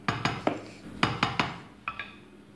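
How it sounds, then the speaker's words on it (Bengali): Freshly cooked pulao is served into a dish, with sharp, close metallic clinks of a spoon and pot against the serving dish, coming in irregular pairs over a soft background. "আমি এখন এটা পাত্রে ঢেলে নেব।"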